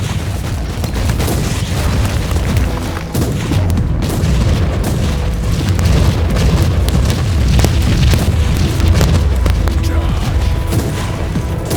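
Grenade blasts and combat rumble from the PC action game Warhammer 40,000: Inquisitor – Martyr, with dense low booms and crackling debris running continuously and loudly alongside game voice lines.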